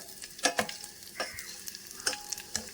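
Garlic dropped into a pan where urad dal, cumin and fenugreek are frying sizzles softly, with scattered stirring clinks and scraping bursts, near and fairly quiet.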